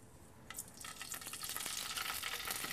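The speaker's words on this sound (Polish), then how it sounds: "Na rozgrzany tłuszcz wrzucamy kawałki tofu" Tofu pieces dropped into hot fat, a faint start that builds into a steady crackling sizzle of frying.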